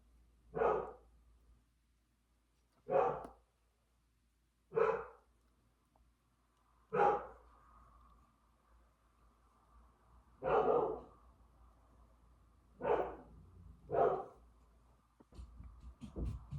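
A dog barks in separate single woofs, about seven over the stretch, spaced a second or two apart, moderately close with quiet between them.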